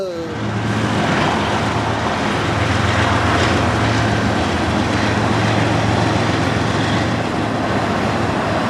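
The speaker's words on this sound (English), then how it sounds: "So I rushed over there to just barely catch this intermodal, with an interesting surprise trailing second." Norfolk Southern intermodal freight train rumbling past with an ex-BNSF locomotive trailing, a steady loud roar of wheels and cars that holds throughout, with a brief voice at the start.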